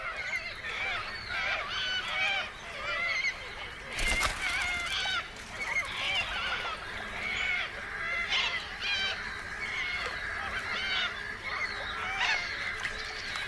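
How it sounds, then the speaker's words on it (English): Flock of little corellas in Australia, a dense, continuous chorus of harsh screeching calls overlapping at moderate distance, with a brief louder burst, under a narrating voice. "Kangaroos often have to put up with noisy neighbors, the little corellas."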